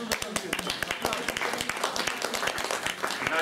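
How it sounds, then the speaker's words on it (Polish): Audience applause at an exhibition of Andrzej Pągowski's film posters in a poster gallery, steady dense clapping held for several seconds with voices mixed in. "Też oklaski, też oklaski."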